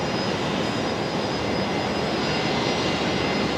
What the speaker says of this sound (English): There we go, Jetstar 964 going to Perth